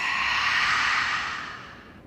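A long, airy exhale during a yoga breathing session, a steady breathy rush that holds strong and then gradually fades away, close to the microphone with no speech.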